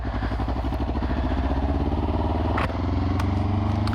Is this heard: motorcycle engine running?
yes